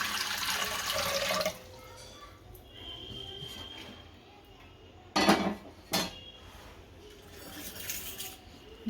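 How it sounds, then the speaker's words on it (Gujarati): Water pours into a pot for boiling bitter gourd, a brief splashing rush at the start, followed by quiet kitchen sounds and a couple of sharp clanks of metal cookware. "કારેલા બાફા પાણી મૂકી દઈશું"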